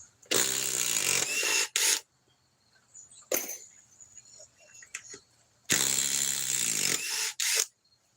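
A DeWalt power tool gives a loud whirring burst that ends in a few short pulses. After a quiet stretch with faint clicks, the same loud run and pulses come again.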